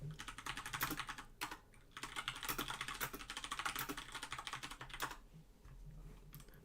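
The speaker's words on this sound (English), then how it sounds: "So that's just me typing away," Steady typing on a computer keyboard fills the clip with dense, continuous clatter, pausing briefly around a few moments before resuming, with a low hum underneath and no talking.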